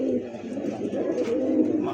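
A male black crested fancy pigeon at a wholesale pigeon sale coos in a soft, rolling, repeated call, close and clear over faint background noise.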